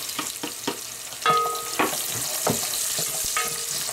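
Garlic sautéing in a pan for goat meat tamarind soup, with a continuous sizzle, repeated spatula scrapes and taps in an irregular rhythm, and a brief metallic ring, no speech.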